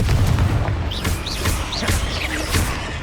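Explosive fire-spell blasts in the Hogwarts Legacy combat game, a steady roar of booming impacts with several bright whooshing streaks and crackles layered over continuous battle noise.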